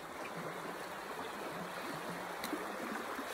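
Creek water flowing in a steady, unbroken wash, close and even throughout with no voices.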